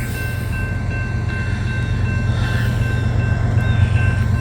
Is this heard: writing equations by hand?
no